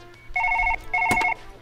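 A telephone rings in the Surgeon Simulator video game, two electronic ring bursts of about half a second each with a short gap between, clear and fairly close, with a brief click during the second ring.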